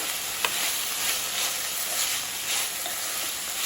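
Potato and capsicum fry in a pan with a steady, hissing sizzle and a few faint clicks of stirring, heard close and with no talking.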